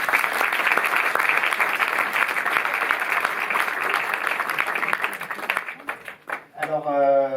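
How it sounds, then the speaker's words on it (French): An audience at a cinema premiere applauds the film's producer with dense, sustained clapping that fills the room for several seconds before it thins out and a voice begins speaking. "qui est là aussi, on peut l'applaudir."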